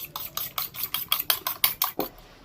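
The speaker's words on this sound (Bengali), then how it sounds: "অমলেটটা ফোলানোর জন্য এভাবে ফেটাতে হবে" Eggs being whisked for an omelette in a bowl, a quick, even run of close, crisp strokes about four per second that stops abruptly at the end, with no voices.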